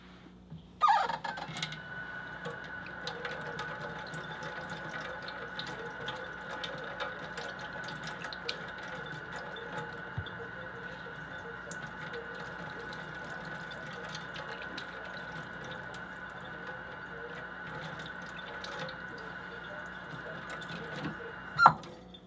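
A kitchen tap running into a sink while rinsing, a steady, fairly quiet stream of water with a faint tonal hiss, starting with a sharp knock and ending with another brief clunk.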